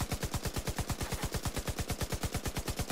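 Rapid automatic gunfire in the video game Division 2 comes as a fast, even burst of shots at a steady rhythm, moderately quiet and without speech.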